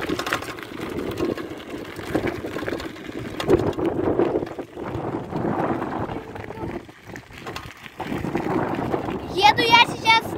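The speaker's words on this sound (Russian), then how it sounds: "Очень ветер такой сильный." Steady gusting wind roars and buffets the microphone throughout while riding a bicycle, with a rider's voice talking over it and a brief whirring sound near the end.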